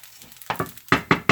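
A spoon stirs brown rice toasting in a pot, making about five close, crisp scraping strokes with a faint sizzle between them.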